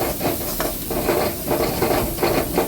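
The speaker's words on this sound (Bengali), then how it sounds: "আগে পেঁয়াজটা আমি একটু ভালো করে ভেজে নিচ্ছি" Chopped onion fries in hot oil with red chili powder and turmeric, a dense steady sizzle with occasional stirring scrapes, close and loud with no talking.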